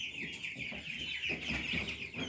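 Cobb 500 broiler chicks, about 30 days old and housed a hundred to a cage tier, cluck and peep together in a busy, continuous flock chatter at moderate distance.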